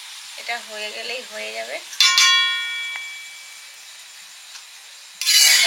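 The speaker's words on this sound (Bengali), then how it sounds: "লাস্ট পরোটা ভাজা হচ্ছে" A paratha frying in a pan gives a soft sizzling hiss broken by a ringing metallic clink, then a louder burst of sizzle at the end. A voice speaks briefly at the start.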